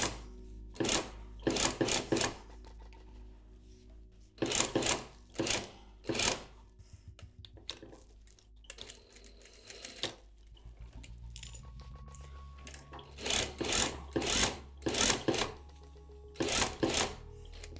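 Sewing machine stitching a tote bag in short bursts of rapid mechanical whirring separated by pauses, fairly close and alone.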